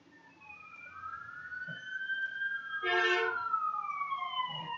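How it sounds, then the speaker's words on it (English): An emergency vehicle's siren sweeps up and down in long wailing rises, growing louder as it approaches and peaks with a short harsh blast before fading slightly, heard from indoors at moderate distance. "here comes another siren."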